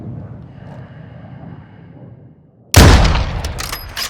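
A single loud rifle shot, fired through a window during a hunt, cracks out after a quiet stretch of low ambient rumble, followed by a brief echoing tail.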